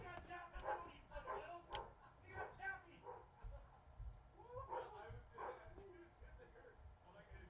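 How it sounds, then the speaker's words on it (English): A dog barks and yips indoors, heard faintly in the background beneath someone talking over it, in short repeated bursts. "The dog is barking."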